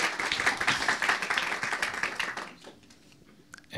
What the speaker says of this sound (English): please, the round of applause